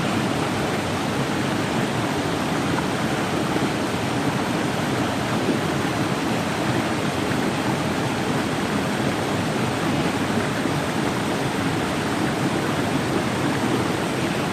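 A small river crossing on a bush walk along the Coomera Circuit at Binna Burra, with water rushing and gurgling in a steady, loud, unbroken flow that never lets up.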